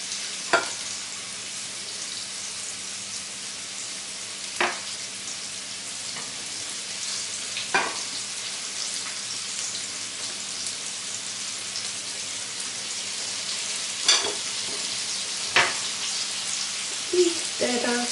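Fish frying in oil or lard in a pan, a steady bright sizzle throughout with occasional louder pops and crackles.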